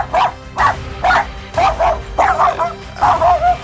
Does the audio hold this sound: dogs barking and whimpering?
yes